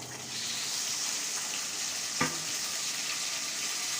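Tomatoes added to frying onions and garlic-ginger paste in a pan, a loud continuous sizzle with a brief clatter midway.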